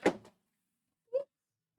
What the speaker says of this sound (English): I just knocked my glue gun off